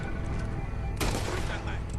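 Gunfire at an alligator in Red Dead Redemption 2, a sudden loud burst of shots about halfway through, cracking over a dense, busy background of game noise and speech-like sound.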